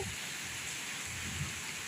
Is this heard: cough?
no